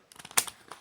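A plastic opener tool pries at the plastic front casing of a 2005 Nokia 6070 phone, giving a quick burst of small clicks and snaps up close, with one sharper crack in the middle and no voices.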